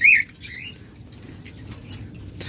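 A yellow collar lovebird gives a sharp chirp, then a soft fluttering of wings follows against a low background rumble.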